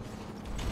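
A weapon reloads in PlanetSide 2, a quick mechanical clatter of clicks and ratcheting, close and short, over a low rumble of background noise.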